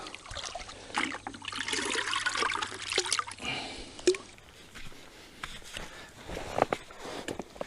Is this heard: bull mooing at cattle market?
no